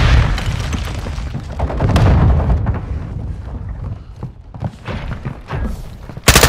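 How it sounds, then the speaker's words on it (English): A Semtex grenade blast in the video game Modern Warfare, a heavy low boom and rumble over constant battlefield noise, ending in a sharp loud burst. "Semtex incoming!"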